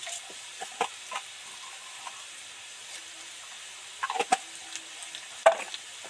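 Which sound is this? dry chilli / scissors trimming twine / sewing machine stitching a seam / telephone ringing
dry chilli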